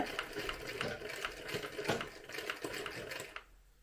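Sewing machine stitching a beaded saree, running in a steady rapid rhythm of needle strokes at close range, stopping abruptly near the end.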